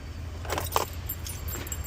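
A ring of car keys jangles in a few short metallic bursts close by, fairly quiet against a steady low hum, with no talking.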